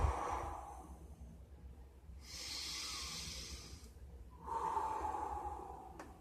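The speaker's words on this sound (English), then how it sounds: "You want to begin to rhythmically breathe." Slow, deliberate breaths during a seated meditation: a long exhale, a strong airy inhale, then another exhale, close to the microphone and alone, in an even rhythm.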